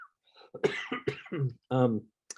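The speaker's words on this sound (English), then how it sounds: "That's a remnant of taking blood pressure medication, that stupid cough." A short run of throaty, close coughs and throat-clearing, a lingering cough from blood pressure medication, with a voiced rasp in between and a brief pause near the end.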